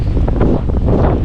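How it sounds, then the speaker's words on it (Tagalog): Strong wind buffets the microphone on a boat at sea, a loud, continuous roaring rumble with gusty surges and no break. "Ang lakas ng hangin!"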